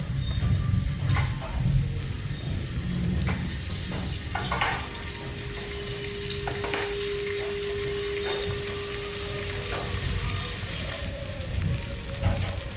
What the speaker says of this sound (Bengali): এবার তেল গরম হয়ে গেছে, চিংড়ি মাছগুলোকে এবার ভেজে নেব।